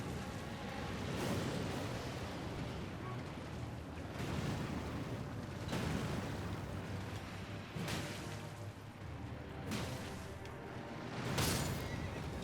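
Repeated horse whinnies in the video game Elden Ring rise over a constant rumbling background, several loud neighs spaced a few seconds apart with no speech.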